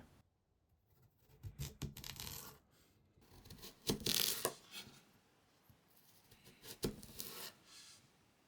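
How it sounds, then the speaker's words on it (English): A knife slices through sweet potato in a kitchen, giving several quiet, irregular crisp cuts and scraping rubs with soft pauses between strokes. "The tip of cutting is to keep the angle of the knife and turn the cut face up."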